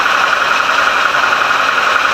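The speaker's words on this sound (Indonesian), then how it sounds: "seperti ini bagian CVT dalam bekerja di dalam mesin" Yamaha NMAX 155 scooter engine running with its CVT transmission exposed, giving a steady, continuous mechanical whir and hum at close range with no variation in level.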